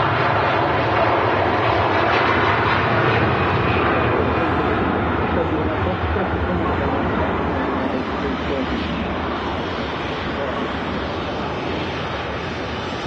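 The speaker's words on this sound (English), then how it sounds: "Turkish Airlines A330 now rolling." A Turkish Airlines Airbus A330 with Rolls-Royce Trent 700 engines rolls for takeoff at Manchester Airport, a broad steady roar heard from a distance that holds for the full length and fades slightly near the end, with wind noise over it.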